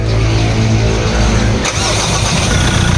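A Ford Ranger 2.2 diesel cranks and fires, the loud rough starter churn giving way to a steady close idle with no talk over it.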